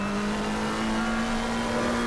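A race car engine droning steadily at low revs in Assetto Corsa Competizione, during an endurance qualifying session at Silverstone, a continuous loud hum with no speech.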